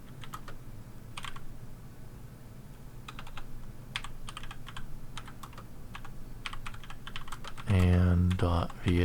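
A git commit message typed on a computer keyboard, with steady bursts of clicking keys at close range and a voice talking briefly near the end.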